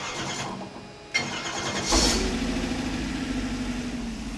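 A GTM supercar's E-Rod LS3 engine on 93 octane fuel cranks after a sharp click, catches near the two-second mark and settles into a loud, steady, rumbling idle close by.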